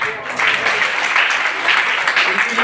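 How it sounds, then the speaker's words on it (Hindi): Audience at a memorial anniversary event in Darbhanga, Bihar applauding a prize winner: a steady, dense wash of clapping from a nearby crowd lasting throughout, with no clear break. "ताली बजाते रहे आप लोग, तालियों के साथ हौसला अफजाई करते रहे"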